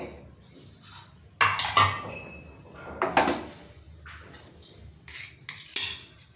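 Steamed halwa idli being lifted from a steamer onto a plate, with a few sharp metallic clanks and scrapes of utensils against steel pans between quieter pauses, close up and without speech.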